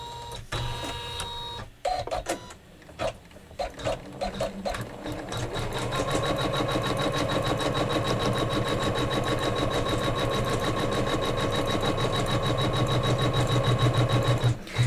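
An embroidery machine stitching a quilt block design starts with a few short bursts, then settles into a rapid, steady mechanical chatter that runs continuously at close range.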